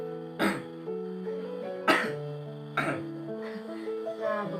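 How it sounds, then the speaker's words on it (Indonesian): A man coughs forcefully three times in a row after deep breaths during nebulizer therapy and effective-cough training, each loud harsh burst followed by a short pause, with a softer throat-clearing at the end. "setelah tarik nafas nanti Bapak batukan ya dengan keras ya"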